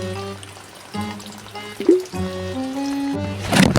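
Cold, clear mountain spring water runs and splashes into a vessel at close range, a steady trickling pour whose pitch rises as the container fills, with a brief louder splash near the end.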